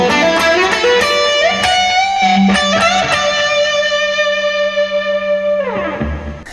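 Electric guitar solo through distortion with delay and reverb, sustained bent and held notes ringing out with echoing tails, loud and close, ending in a long sustained note.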